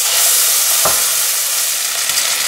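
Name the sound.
ground spice paste sizzling in hot oil in a wok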